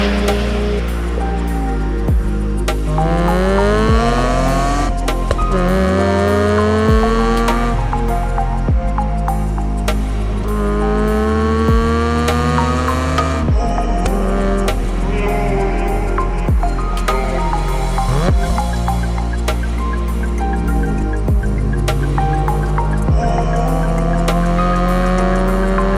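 A Mazda RX8 driving hard and revving, its engine rising and falling through repeated loud pulls and shifts, with bursts of tire squeal and skidding across a continuous close, busy stretch with no talk.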